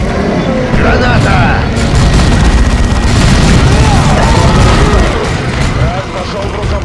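A grenade explosion in the video game Warhammer 40,000 Dawn of War II, set within loud sustained battle noise with rumbling booms and bursts that continue for several seconds, while voices speak over the fighting.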